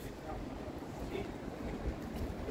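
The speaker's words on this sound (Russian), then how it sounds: "Ой, какой ветер." Strong wind buffets a microphone outdoors at the Golden Gate in Kyiv. It makes a continuous low, rumbling roar that stays fairly steady throughout.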